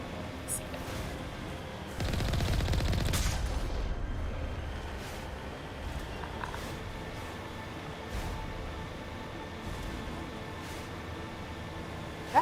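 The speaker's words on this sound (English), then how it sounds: "Oh, a turret." Turret gunfire in Mass Effect Legendary Edition on snowy Noveria, a loud burst of rapid fire that fades into a lingering rumble, with a few faint later pops.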